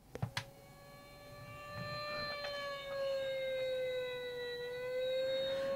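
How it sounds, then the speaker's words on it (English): A toy fire truck siren wails steadily after a couple of sharp clicks, its tone gliding slightly, fairly faint and with no talking. "And let's hit the siren button."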